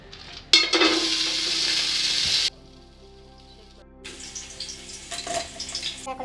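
Garlic, ginger, cinnamon, cloves and other whole spices hit hot oil with a loud, close burst of sizzling. It drops away abruptly, then the frying resumes and crackles unevenly toward the end.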